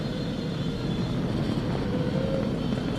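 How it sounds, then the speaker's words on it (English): SpaceX Falcon 9 rocket engines during launch ascent with a crewed Dragon capsule: a steady, broad, heavy roar that stays loud and continuous throughout, with no breaks and no clear speech. "Flying crew on board Dragon and Falcon 9, and look at them go."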